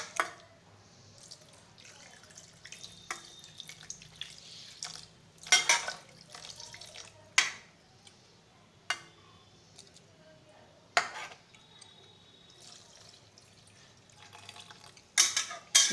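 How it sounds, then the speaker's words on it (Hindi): Cold water is poured into a cooking pot while preparing Assamese-style steamed hilsa fish, with irregular splashes and trickles that come in separate bursts against a quiet kitchen background. "ये पानी डाल दिया"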